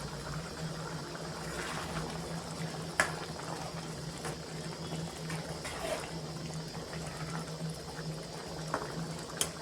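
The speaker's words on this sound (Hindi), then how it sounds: "अभी मैं हरी मिर्ची भी ऐड कर देंगे और 2 मिनट में कवर करके पकाएंगे।" Chana dal palak with green chillies bubbling gently in a covered pot, a steady low simmer with soft hiss and occasional faint clicks, no voices.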